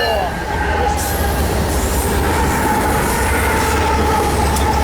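Freight train locomotives rolling past close by, a loud continuous rumble with deep low-end drone, metallic wheel squeal and clatter, steady for the whole stretch.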